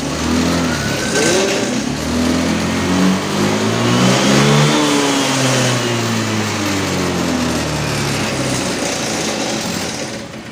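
Honda motorcycle engine revving up to about 4000 rpm, with a flat, sluggish pickup during the mode 1 to 2 change; a loud, continuous engine note rises and falls in pitch throughout.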